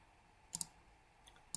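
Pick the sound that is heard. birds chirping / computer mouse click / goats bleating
computer mouse click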